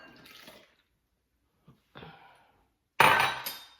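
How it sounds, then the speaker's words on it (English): A buttermilk mixture poured into dry pancake ingredients in a bowl, soft brief splashy pours separated by pauses, close and quiet, ending in a louder burst of liquid, with no talk. "Now I'm going to add my buttermilk mixture."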